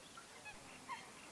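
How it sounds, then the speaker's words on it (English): Ruddy shelducks calling at a wetland where migratory birds overwinter, with a few faint, brief honking notes scattered over a steady background hiss. "ruddy shelduck"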